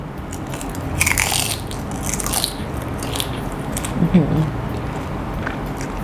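Close, crunchy chewing of crispy seaweed, with a few sharp crackles and a brief hummed murmur of enjoyment over steady background noise.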